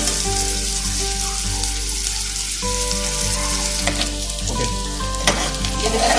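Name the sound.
onions frying until brown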